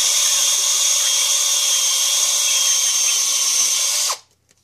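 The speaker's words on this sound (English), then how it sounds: "leave the top on the bottle and start drilling through this way" A power drill whines steadily at high pitch for about four seconds, close and loud, drilling through a plastic bottle cap, then stops abruptly and spins down to near silence.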